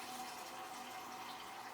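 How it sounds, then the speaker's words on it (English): Filtered water pouring into a pot of vegetables: a faint, steady, even rush of liquid lasting the whole moment, with no talk over it. "we'll add more water"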